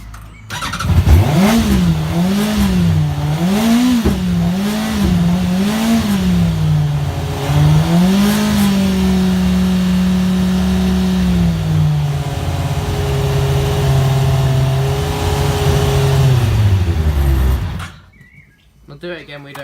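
A Yamaha R1 motorcycle engine with a fault, revving in a wavering rise-and-fall pattern several times, then holding a steady high idle before cutting out abruptly; loud and close.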